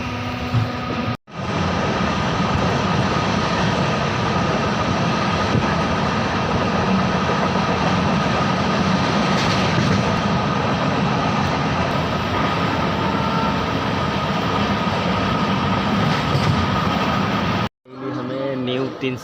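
A train starts and runs near Banipur, giving a continuous loud rumble and rolling clatter with a steady hum, cutting out briefly near the start and again near the end.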